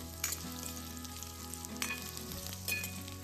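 Drumstick pods frying in a pan, a continuous loud sizzle with occasional stirring scrapes, close up and without talk.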